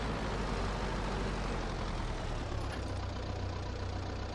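Tractor engine in the Farming Simulator 22 video game, idling in a steady, continuous low rumble with a deep throb that grows heavier midway, close and loud with no voices.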